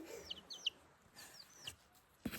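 Chickens clucking and chirping in a garage, several short calls in quick succession, fairly near over a quiet background.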